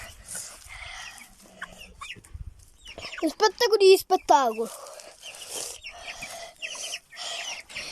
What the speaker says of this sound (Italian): Guardate, le galline.